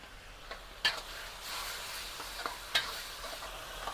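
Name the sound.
noodles being stirred and cooked in a pan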